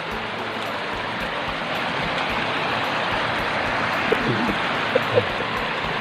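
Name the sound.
flowing water of a stream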